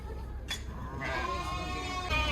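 Sheep bleating at the Kyzylorda livestock market, a few faint bleats rising over steady crowd and yard noise, with no talk.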